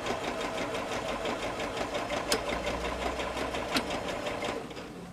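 A sewing machine stitches binding onto a quilt, a fast, even mechanical whir of needle strokes running continuously up close, with a couple of sharp clicks before it slows at the end.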